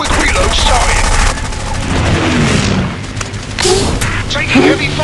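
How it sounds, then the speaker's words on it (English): Loud aircraft gunfire in the WarWings combat flight game, with a dense roar of machine-gun bursts and booms that runs continuously throughout. "Taking heavy fire."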